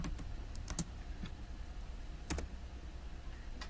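Keyboard typing in short bursts of key clicks with pauses between them, close and fairly soft over a steady low background hum.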